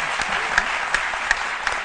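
A television studio audience on a midday show claps in a brief, moderately loud burst, with a few sharper individual claps standing out at regular intervals against the steady patter.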